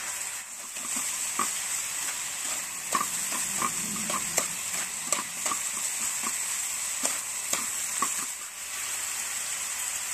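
Jicama and carrots are stirred in a frying pan: a soft steady sizzle with scattered scraping clinks of a utensil against the pan, fairly quiet and with no talking.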